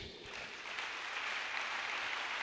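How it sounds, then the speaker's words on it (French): A church congregation claps and cheers together at a worship service, a steady wash of applause that is fairly faint and heard alone. "Acclamons Jésus"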